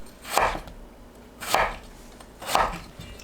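Three crisp knife strokes slicing a sweet potato into thick 1 to 1.5 cm pieces, about one per second, close and fairly quiet with no talking.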